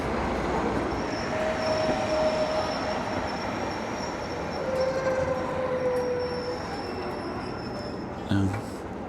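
Preserved old train carriages roll past outdoors by a river, a steady broad rumble with faint drawn-out wheel squeals across the whole stretch and a brief knock near the end.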